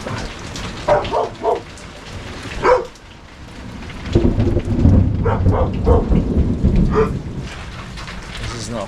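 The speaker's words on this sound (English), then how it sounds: "the storm is like still just sitting on top of us" Heavy rain drums over a boat during a lightning storm while thunder cracks and rumbles several times nearby, loud rolling bursts breaking through the steady downpour.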